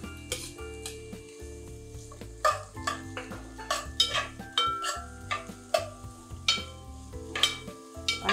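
Onion frying in a little oil for a Goan pork bone meat dish, with soft steady sizzling under repeated scraping and stirring clinks of a spoon against the pan, close and moderately loud, no talking.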